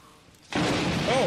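A sudden loud thunder crack bursts in and holds as a broad roaring rumble during a storm in the farming video game Farmer's Dynasty 2.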